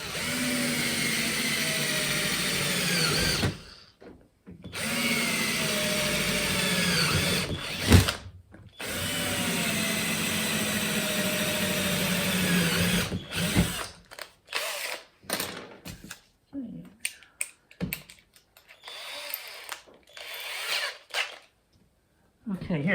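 A cordless drill whirs in several bursts drilling into a van roof for a roof vent fan, stopping and starting with short pauses, with faint talk between the later, choppier runs.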